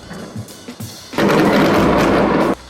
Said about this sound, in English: As we finished eating jiaozi, the fireworks started.